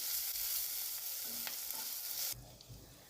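Bell peppers (capsicum) sautéing in a pan, with a close, steady hiss of sizzling that drops off sharply near the end, leaving quiet room sound.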